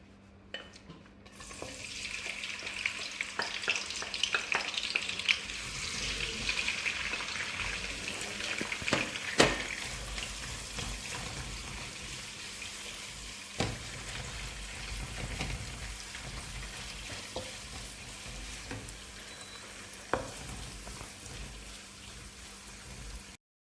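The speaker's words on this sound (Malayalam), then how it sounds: "അപ്പോൾ നമ്മൾ ആദ്യം ഇതിനകത്ത് തേങ്ങാക്കൊത്ത് വറുത്തെടുക്കാം." Coconut pieces fry in hot coconut oil for a Kerala tapioca biryani, a continuous soft sizzle and bubbling close by, broken by occasional stirring clatters and scrapes in the pan.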